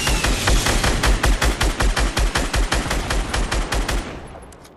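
Rapid automatic gunfire in a video game battle as an enemy empties a whole magazine: a loud, steady string of about two dozen evenly spaced shots that trails off into fading echo.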